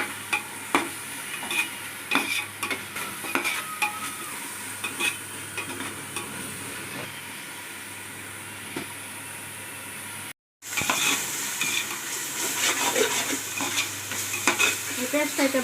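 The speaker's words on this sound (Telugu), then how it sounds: "ఈ పేస్ట్ అయితే బాగా వేగిపోయిందండి" A spice paste for chicken biryani fries and is stirred in a pan, giving a steady close sizzle with repeated scraping strokes, cut by a brief silent gap partway through.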